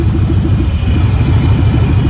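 A 1998 Chevy high top van engine running at a junkyard with its exhaust cut off, a loud, close, pulsing low rumble throughout with no voices.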